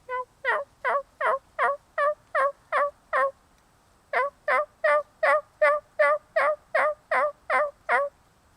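A person's voice imitates a turkey's yelp, a long run of sharp, evenly spaced calls with a short pause partway through, close and loud.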